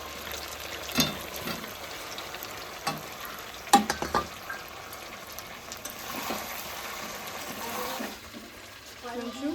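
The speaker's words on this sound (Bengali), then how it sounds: "মাংস কষানো হয়ে গেছে আলুটা ভেজে রেখেছিলাম আলুটা এখন দিয়ে দেবো" Potatoes going into a pan of sautéed meat in a home kitchen, with a steady low frying sizzle and several sharp scraping knocks of stirring spread across the clip.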